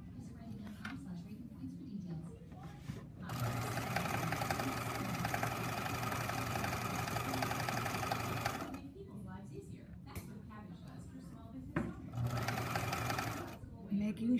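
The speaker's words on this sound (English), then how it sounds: "you're gonna backstitch, and then you're gonna sew, taking out your pins as you go" A sewing machine stitches piping with a backstitch, running in steady rapid bursts: a long stretch of close mechanical chatter, a pause, then a shorter run, with a voice speaking in the gaps.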